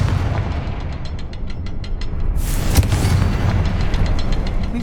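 In Hogwarts Legacy, a Confringo blasting spell goes off inside a cavern as one loud, sharp explosive burst midway. A heavy rumbling background runs throughout, with faint rhythmic ticking before the blast.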